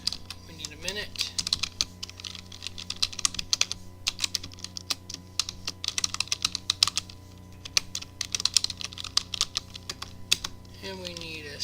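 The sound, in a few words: typing on a computer keyboard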